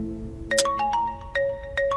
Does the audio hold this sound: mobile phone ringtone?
yes